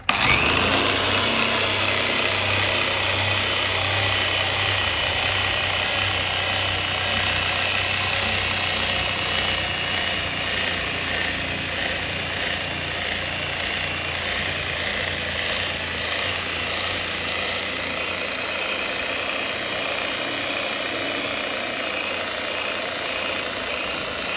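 A polishing machine buffs a keyed scratch in car paint with a loud, steady whine and hum that runs without a break, easing off slightly partway through.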